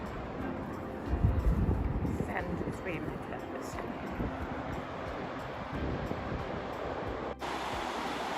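Ocean waves wash at a beach under steady wind buffeting the microphone, a continuous rumbling surge with one louder swell early on.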